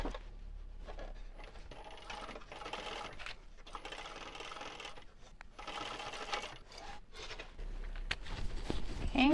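Sewing machine basting a seam on a canvas-style shoulder bag at a narrow allowance, a steady close stitching whir running in bursts with short pauses and a louder stretch near the end, no talk.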